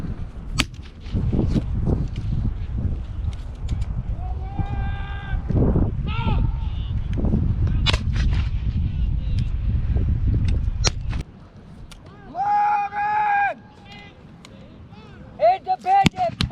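Musket volleys crack out at a Civil War reenactment, a series of sharp reports, some near and some far, followed by loud shouting.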